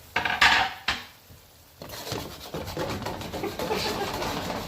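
A plate picked up and handled in a home kitchen while pici aglio e olio is being cooked, giving a few close, sharp clinks of crockery followed by steady clattering and kitchen bustle.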